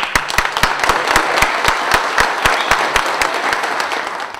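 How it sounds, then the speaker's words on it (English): A dinner crowd at a roast beef event applauds, a loud, close burst of clapping with distinct sharp hand claps standing out in a quick, fairly regular rhythm over the general applause. "So give him a good round of applause."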